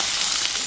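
Prawns are stirred in hot oil in a pan, producing a brief, dense, steady sizzle heard up close.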